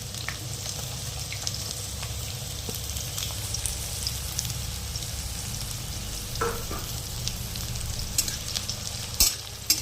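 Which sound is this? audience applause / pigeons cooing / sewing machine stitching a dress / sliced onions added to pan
sliced onions added to pan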